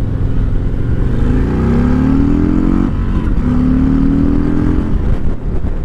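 A Harley-Davidson Street Glide Special motorcycle accelerating hard, its loud, close engine roar climbing in pitch through two gear pulls toward the rev limiter with a brief dip between them.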